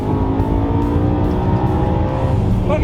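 A BMW E92 M3's V8 drones loud and steady as it is pushed hard around a race track, heard from inside with a continuous, even engine note and no pauses.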